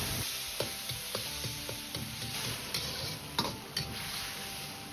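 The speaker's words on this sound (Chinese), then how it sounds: "下入姜葱先炒出香味，再倒入切好的西红柿丁翻炒" Diced tomatoes with ginger and scallion sizzle in hot vegetable oil over medium-low heat as a spatula stirs and scrapes the pan in several sharp knocks, with steady frying hiss underneath and no talking.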